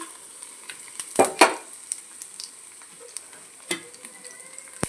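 Garlic cloves and tempering spices sizzle in two spoons of hot oil for a green chilli chutney, a steady close frying crackle with a couple of brief louder stirring bursts.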